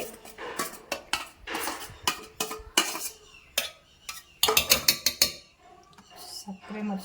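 Grated raw mango, peeled and shredded from two fruits, tipped into a mixer juice jar, giving a series of clattering knocks and scraping clinks of the spoon against the jar, some sharp and close, with brief gaps between.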